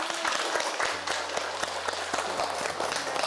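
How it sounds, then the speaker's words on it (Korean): A class learning to use smartphones breaks into applause: brisk clapping from a small group, continuous across the moment, over a low steady hum in the room. "박수 한번 주시죠"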